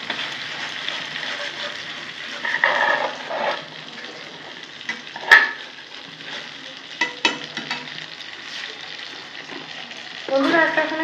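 Spiced paste of ground tomato, ginger, garlic, and green, ripe and dried chillies frying in a pan while being stirred, giving a steady soft sizzle with louder scraping bursts from the spoon now and then.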